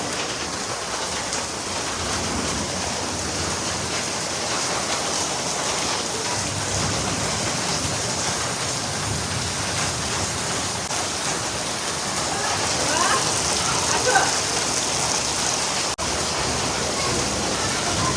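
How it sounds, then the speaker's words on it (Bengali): Rain falls steadily in a broad, even hiss with pattering on surfaces, constant and moderately loud for the whole stretch, swelling slightly toward the end. "আর তারপরে বৃষ্টি আছে।"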